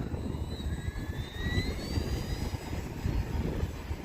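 An Arrows F8F Bearcat 1100mm RC model plane takes off, its electric motor whining as it rises in pitch over steady rumbling outdoor noise, moderately distant and fairly faint.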